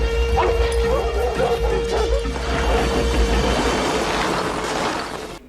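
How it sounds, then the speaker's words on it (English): Hounds barking in a movie chase scene, with repeated yelping barks and whimpers over a loud rumbling, mechanical background and a steady tone. "before they send the hounds after him."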